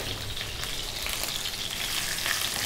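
A cup of sliced red onion fries over fairly low heat in a pan, producing a steady, close sizzling hiss that runs throughout with no voices.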